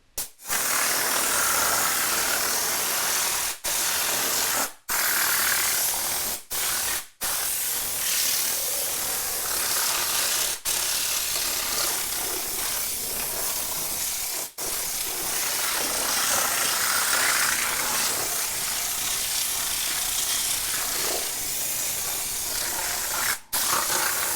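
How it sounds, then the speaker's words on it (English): Continuous loud hissing spray while cleaning a car engine bay runs for a long stretch, broken by a few short stops, with a faint air compressor hum underneath. "Do you hear the compressor?"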